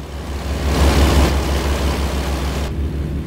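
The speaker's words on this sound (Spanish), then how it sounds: "el sonido del American Truck Simulator es mejor" A heavy truck engine in the American Truck Simulator driving game holds a loud, steady low rumble that swells slightly early on, then drops off abruptly in its upper noise near the end.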